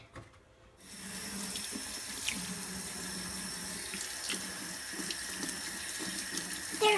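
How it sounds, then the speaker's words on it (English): A bathroom or kitchen tap runs in a steady, close, broadband hiss as hands are washed under it, with soft splashing and shifting water noise throughout after a brief quiet start; no one speaks. "forgot I have to wash my hands really good."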